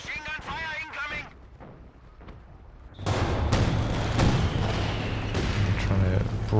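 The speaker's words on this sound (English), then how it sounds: "Machine gun fire incoming." Heavy gunfire and explosions in the Company of Heroes 2 video game, a dense, loud, continuous barrage of rattling shots and booms that erupts suddenly after a stretch of voices and quieter battle noise.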